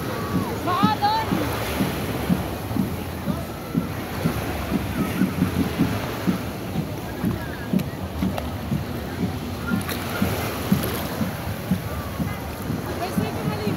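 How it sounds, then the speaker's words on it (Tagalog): Strong surf rolling in at Boracay beach, a steady broad wash of breaking waves with wind buffeting the microphone throughout, while people talk nearby. "Lakas ang alon, no?"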